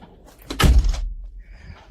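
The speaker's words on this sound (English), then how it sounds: "Let me shut the door." An indoor door is shut with a single loud, close, heavy thunk, followed by a brief low rumble and quiet room tone.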